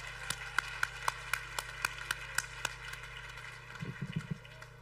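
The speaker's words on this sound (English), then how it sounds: "Shall we give another round of applause again, stronger?" Evenly spaced single claps ring out at a steady beat through a graduation ceremony hall for vocational certificate graduates, sounding thin and fairly faint, with a brief low murmur near the end.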